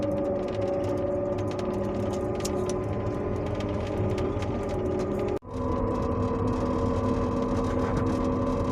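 A car cruises along a highway with a steady, continuous engine and road drone throughout, broken by one brief dip in noise partway through.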